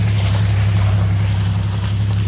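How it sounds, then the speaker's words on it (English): Cars pass near a campground in Boone, North Carolina, a loud, constant low road rumble mixed with wind buffeting the microphone. "Excuse the noise in the cars here"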